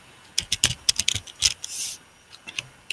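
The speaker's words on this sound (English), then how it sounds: "I have to type that long thing" Fast clattering keystrokes on a computer keyboard while entering JavaScript code, close and clear, in uneven bursts with a short pause near the end.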